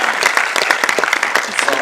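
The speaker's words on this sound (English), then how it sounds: "One more big round of applause." An audience at a general assembly council meeting gives a big round of applause, with steady dense clapping from a large crowd filling the whole stretch.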